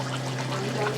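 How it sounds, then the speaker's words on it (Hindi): Water poured into a pot of lobia gosht, a mutton and black-eyed pea curry, giving a steady close liquid stream with a low continuous hum underneath for the whole moment. "यहाँ पर लाकर के अब आप ऐड करेंगे थोड़ा सा पानी"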